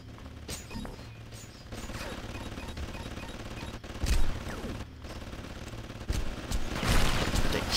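Gunfire from the video game Red Faction 2 crackles in bursts and single sharp shots over a constant background of game ambience, with louder blasts near the middle and end.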